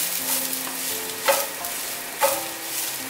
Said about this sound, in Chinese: 慢慢的炒，不要把香菇炒得太干。